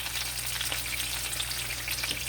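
Food browns in a hot pan with a dense, continuous sizzle that stays loud and even throughout, with no voices.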